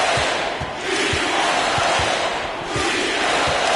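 A steady, roaring basketball arena crowd cheers throughout an NBA 2K22 game, with a low rhythmic thumping underneath and a dense, loud, continuous wash of noise.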